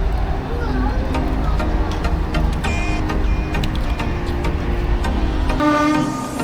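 A Narayanganj commuter train pulls out of Kamalapur railway station in Dhaka, its steady loud rumble and rattling wheels running throughout, with voices talking over it.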